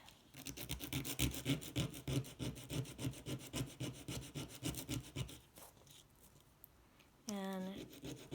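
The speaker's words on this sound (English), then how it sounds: "I've also got some sandpaper, so I'm just going to flatten this side." Sandpaper rubs against the side of a small wooden twig in quick, rhythmic back-and-forth scraping strokes that go on for about five seconds. After a pause, someone speaks briefly.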